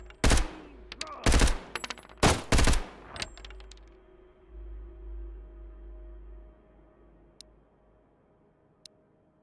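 Gunfire in the survival shooter Road to Vostok: four loud, close bursts of rapid shots in the first three seconds, then a fading low rumble and a couple of faint distant cracks.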